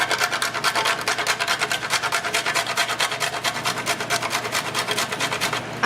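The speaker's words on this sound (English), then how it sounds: "So I cracked it out of the shell. I'm gonna grate it now." Fast, steady rasping of a whole nutmeg scraped back and forth on a metal grater, close and loud, with even repetitive strokes throughout and no talk.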